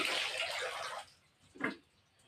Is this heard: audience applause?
no